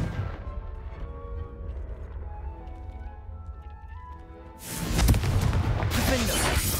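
A Confringo blasting spell explodes in Hogwarts Legacy, arriving as a sudden loud burst that rolls into a sustained roaring blast after a stretch of game music and effects.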